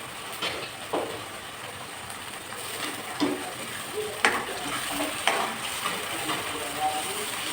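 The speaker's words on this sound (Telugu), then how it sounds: "ఇది కొంచెం సేపు వేగనిద్దామండి." Blended tomato puree fries and sizzles in a pan while a fish curry is cooked, a steady crackling hiss with occasional stirring scrapes and small pops, close and continuous, with no talk.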